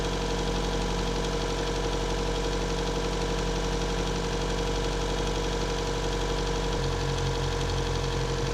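A 2014 Chevy Volt's Ecotec engine idles steadily with a rough, uneven knock from an intermittent secondary-ignition misfire, a continuous close mechanical drone whose low rumble shifts pitch near the end.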